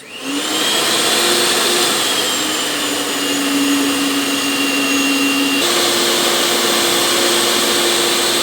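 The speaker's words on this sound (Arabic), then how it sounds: "ونخلطوا جيدا الكيكه تاعنا. قد ما نخلطوها خواتاتي الكيكه تاعنا تجي هشه خفيفه" Electric mixer whirring steadily through chocolate cake batter, a loud continuous motor drone with a slight pitch shift partway through, close and alone.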